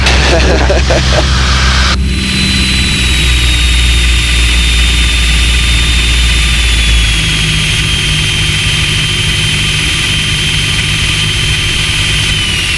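A light aircraft's piston engine drones loudly and steadily from inside the cabin on landing at Sandown after a flight from Redhill, with a continuous hum and a slowly falling whine and a brief burst of radio chatter.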